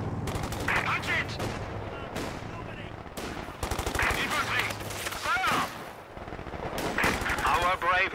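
Machine-gun fire on infantry in the World War II strategy game Company of Heroes 2, rapid rattling bursts repeating over several seconds alongside explosions and other battle noise, with voices heard talking between and over the shots.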